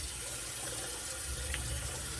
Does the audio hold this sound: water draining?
yes